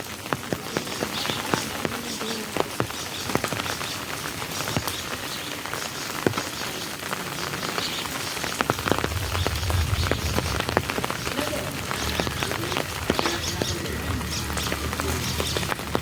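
Heavy monsoon rain pours steadily with wind, a dense continuous hiss of drops drumming on surfaces, with a deeper rumble joining partway through.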